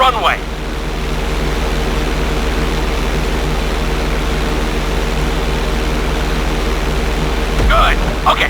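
An airplane engine drones steadily in a flight-school session of the GTA 5 video game, a loud continuous low hum with brief voice-like bursts at the start and end.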